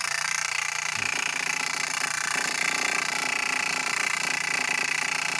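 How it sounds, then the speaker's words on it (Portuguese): A stone polishing and sanding machine fitted with a grinding wheel runs steadily, giving a continuous motor hum with a gritty, buzzing whir that holds at an even, fairly close level throughout, with no talking. "é só para mostrar como que eu uso para lixar e polir as pedras"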